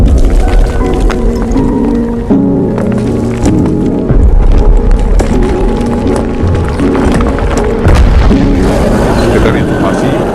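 A loud roar and explosion echo inside a tunnel in the film Troll (2022), heavy booming impacts and rumbling repeating throughout with a dense, reverberant low-end texture.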